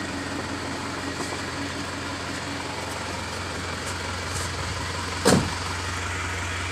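A 2001 Isuzu Panther LS diesel engine idles steadily with a continuous low rumble, heard close and alone, with one brief louder knock or bump partway through.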